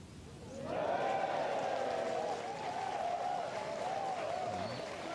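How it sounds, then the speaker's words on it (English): A golf gallery at the Honda LPGA Thailand final round erupts into cheers and applause after a birdie putt, the sound rising quickly and holding as a sustained distant roar of voices and clapping before easing slightly. "They're going to cheer all day long for Jeeno Thitikul, even if she's not going to win here"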